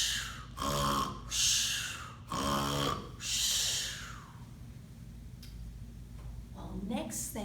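A person's voice mimics a bear snoring, with several deep, rasping inhale-snore bursts in a slow rhythm, close and loud, followed by quieter breathy sounds.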